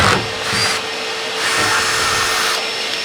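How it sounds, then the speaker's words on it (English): A power drill bores a hole through the metal roof of a Dodge ProMaster van for a MaxxAir rooftop vent, a loud steady whine that ramps up and down in short bursts. "we're gonna drill a hole so we have a center point of where the hole's getting cut out"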